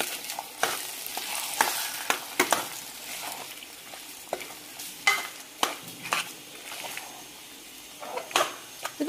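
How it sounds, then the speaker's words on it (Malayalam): A spoon scrapes and stirs roasted coconut into a thick kootukari curry in a pan, with a gentle sizzle underneath and irregular close-up scraping strokes. "ഇത് നല്ലോണം മിക്സ് ചെയ്ത് കൊടുക്കാം."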